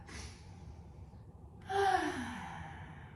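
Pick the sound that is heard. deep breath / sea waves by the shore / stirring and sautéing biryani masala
deep breath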